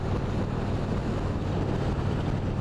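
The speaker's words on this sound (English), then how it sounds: "Now we're back up to 60 miles an hour. You can definitely feel that wind hitting you." Wind rushing past a rider on an Indian Springfield Dark Horse motorcycle at 60 mph, a dense, loud, steady buffeting roar with low rumble, continuous throughout.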